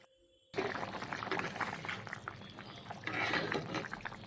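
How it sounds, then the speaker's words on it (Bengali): Vegetarian taro and potato curry left to boil over a high gas flame, bubbling and gurgling liquid close by, starting abruptly after a brief quiet moment and continuing steadily, slightly louder toward the end. "এবার গ্যাসেরটা বাড়িয়ে আমি ফুটতে দেব"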